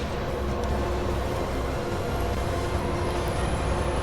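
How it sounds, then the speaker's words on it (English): A train rumbling past, a steady, broad, loud roar with low-end weight that holds constant throughout, no voices over it. "Ugh, the train."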